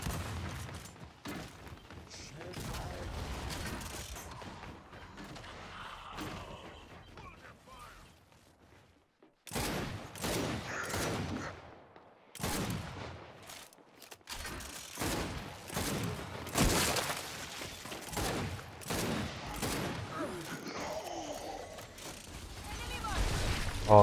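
Rapid bursts of weapon fire from the video game Gears 5 crackle throughout a ranked Control match, with dense rattling volleys and a short lull, mixed under a player's talk.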